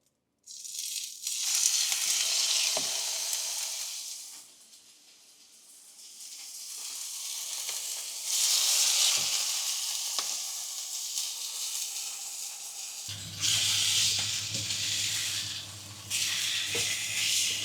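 Steak sears in a hot pan with a loud, steady sizzle that swells and fades in waves, with occasional clinks and a low hum of a kitchen appliance in the background.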